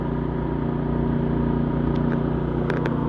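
A 2012 Forest River Solera 24S motorhome's engine idles in a steady, low drone without revving, close and fairly loud, with a few faint clicks near the end.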